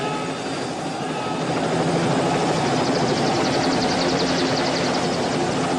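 Aircraft engine roar from a plane taking off on a runway, a steady loud drone that swells and holds, with a helicopter-like throbbing pulse building in the middle of the sound.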